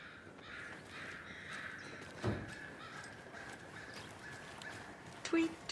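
Crows cawing in the game Alan Wake 2, a few scattered calls over a steady ambient bed with a faint voice murmuring in the background.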